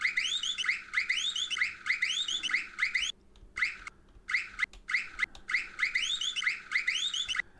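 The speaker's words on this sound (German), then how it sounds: "Die Hupe hört sich auch ein bisschen komisch an." A squeaky, chirping tractor horn in Farming Simulator 19, on a Fendt 615 LSA Turbomatik, honks over and over in quick bursts, with a few short pauses between runs.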